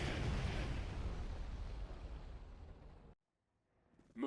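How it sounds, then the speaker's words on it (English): Bomber's bombing run in the Star Wars strategy game Thrawn's Revenge: a heavy, rumbling barrage of overlapping explosions for about three seconds, then it drops to silence before a faint swell returns. "Bombing run."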